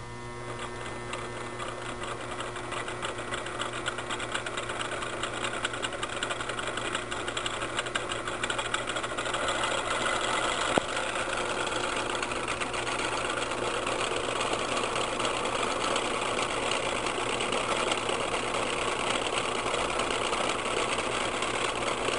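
A three-phase AC induction motor runs with a steady mechanical whirring hum and a faint rattle, holding constant apart from one brief click midway.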